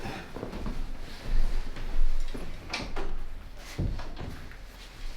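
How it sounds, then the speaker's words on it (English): A door in a podcast recording room swings shut with a couple of soft knocks and thuds, close by, amid low room noise. "Close the door."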